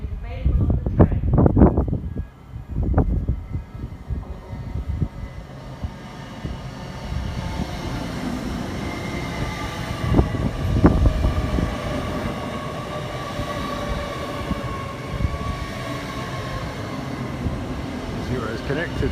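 A train rumbles steadily nearby at Grantham station with a low rolling drone and a faint high whine, after a few heavy clunks at the start.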